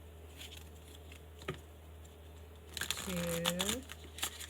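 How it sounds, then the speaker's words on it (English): A deck of cards is shuffled close by, a soft rustling riffle building over the last couple of seconds, following a voice speaking briefly and quietly over a faint steady hum. "I'm going to shuffle this 3 times."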